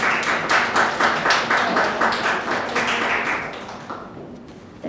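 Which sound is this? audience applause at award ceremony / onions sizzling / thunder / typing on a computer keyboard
audience applause at award ceremony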